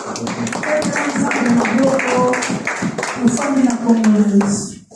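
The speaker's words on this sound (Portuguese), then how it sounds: "Uma salva de palmas para Deus" Congregation applauding during a Sunday church service, a crowd's clapping under voices and singing-like tones that continue throughout.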